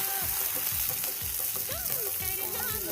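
Onion fries in a pan for poha, a dense, loud sizzle with repeated scraping stirs, while faint background voices or music drift underneath.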